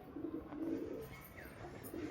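A rock pigeon with clipped wings, struggling to fly, gives faint, low, rolling coos in a quiet setting with no one speaking.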